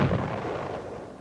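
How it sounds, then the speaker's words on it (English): A single deep cannon blast booms and rolls away for a second or so, loud and alone with no voices. "You mean they shoot off a cannon every time she gets angry?"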